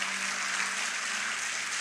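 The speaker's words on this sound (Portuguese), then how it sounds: "Aplauda Jesus nesse lugar." Congregation applauding inside a church, a steady, dense wash of many hands clapping at once, fairly close and sustained without pause.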